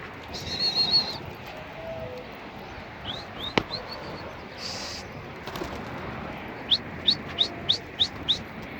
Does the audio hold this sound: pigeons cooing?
yes